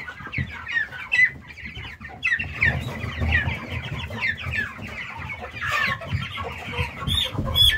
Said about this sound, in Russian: Бойкие цыплятки.